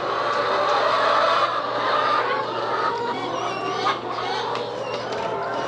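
Hens cluck and chatter across a farmyard flock, a busy steady layer of overlapping calls with scraping and a low constant hum beneath.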